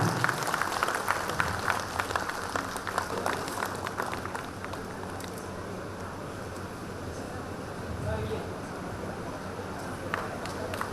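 An audience at a government Teachers Day programme breaks into clapping, loud and dense at first, then thinning into scattered claps with a low murmur of the hall behind.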